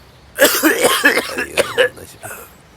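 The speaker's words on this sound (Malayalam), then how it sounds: "എന്തു പറ്റി സാറേ, ചുമയൊക്കെ?" A person coughs in a rough burst of several harsh coughs, close and loud, trailing off with a throat clear.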